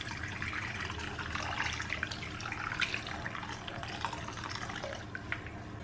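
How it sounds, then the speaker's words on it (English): Hot water pours steadily into a container, a continuous splashing rush that holds for several seconds with no talking. "Add hot water."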